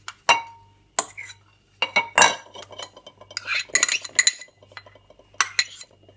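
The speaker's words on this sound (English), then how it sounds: "All we're going to do is mix the vegetables together." Grated vegetables and egg stirred in a bowl with a metal utensil, sharp clinks and scraping taps in irregular bursts, close and fairly loud, with short silent gaps.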